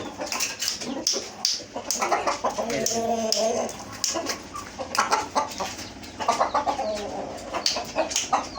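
A tame rooster of tiger-coloured chickens clucks repeatedly in a busy coop, surrounded by dense overlapping bird calls and a faint murmur of voices.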